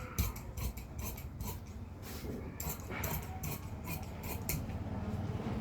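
Scissors cut along the side of shirt cloth, a series of crisp snipping strokes in quick bursts with short pauses, close up and fairly quiet.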